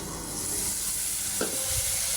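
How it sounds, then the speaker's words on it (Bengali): Ground coriander, cumin, turmeric and chili fry in a pan with a steady close sizzle and hiss, broken briefly by one stirring scrape. "ধনিয়া, জিরা, হলুদ, মরিচ দিয়ে আমি মশলাটা কষা নিচ্ছি"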